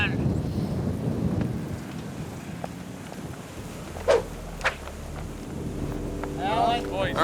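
Gusty wind buffets the microphone on an open golf course, a low rumbling roar that eases midway, with a couple of sharp knocks and a brief voice near the end.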